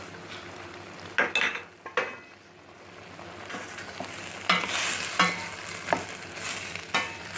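Garlic goes into a boiling oily red pepper pickle in a pot, with a soft bubbling simmer under scattered spoon clinks and scraping stirs.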